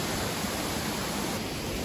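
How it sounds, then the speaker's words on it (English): A waterfall along the Appalachian Trail on Maine's Old Speck and Baldplate Mountain route gives a steady, close, broadband rush of falling water that holds unchanged throughout, with no voices. "It's really hard to capture this waterfall."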